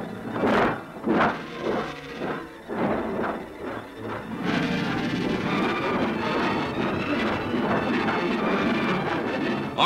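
A wartime troop train runs along the railway, a steady loud rumble of wheels and carriages following a few heavy rhythmic thumps, with no voices over it.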